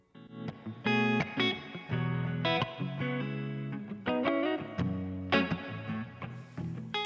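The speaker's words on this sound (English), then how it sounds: "It's got a pretty good reverb on it." Electric guitar playing chords and single notes through a Clubman 60 amp, with a noticeable reverb tail lingering after each strum; clean, moderately loud, no talking.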